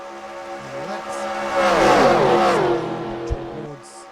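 A pack of NASCAR stock cars in NASCAR Racing 2003 at Daytona howls past in the simulated race, with overlapping engine tones that swell to a loud peak and then fade, ending with a short sharp click.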